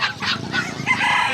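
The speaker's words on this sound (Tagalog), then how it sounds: "Ayan, napakadami bibe." Poultry at a crowded outdoor pet market in Bocaue, where ducks are sold, gives a dense run of overlapping calls, quacks and clucks from birds close by, loud and unbroken, with no talking.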